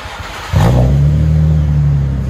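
A car exhaust fires up and holds a loud, steady low rumble close by, with no talking.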